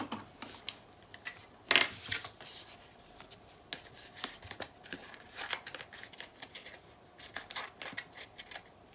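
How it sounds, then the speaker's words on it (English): A simple pair of scissors cuts a paper tag while a mini album is made, producing quiet, close, crisp snips and rustles in short irregular bursts, one sharper clack standing out. "I'm just going to do that with a simple pair of scissors."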